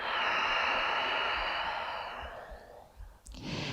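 A long, steady breathy exhale during a yoga breathing exercise with the lips sealed, close and fairly loud, slowly tapering off before a short intake of breath at the end.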